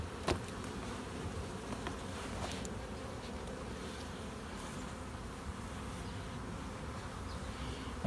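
Honeybees hum faintly and continuously in honey supers at harvest time, a low, even drone with a sharp click early on and a few soft taps.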